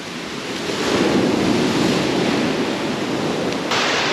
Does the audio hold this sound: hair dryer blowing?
no